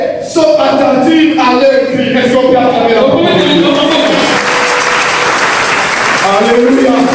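Congregation at a Sunday church service applauding and acclaiming together, a dense continuous wash of clapping mixed with voices and shouts, loud and sustained throughout.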